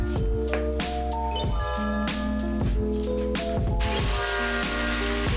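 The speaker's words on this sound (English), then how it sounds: "Now our beef is almost fully browned." Ground beef browning in a hot pan on high heat, a steady sizzle with rhythmic wet scraping as a spatula breaks the meat into small pieces, close and continuous.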